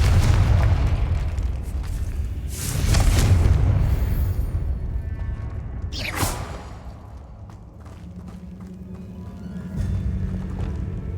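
In the Hogwarts Legacy video game, a Confringo blasting spell goes off with a whooshing cast and then rumbling booming blasts, followed by a sharp swish and a lingering low hum.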